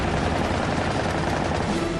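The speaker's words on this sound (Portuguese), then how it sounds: "O Zero abre fogo com seu canhão de 20 milímetros." A Japanese Zero fighter fires its 20 mm cannon during Guadalcanal air combat, a dense, unbroken burst of rapid gunfire. The rattle is loud and continuous for about two seconds, with no speech.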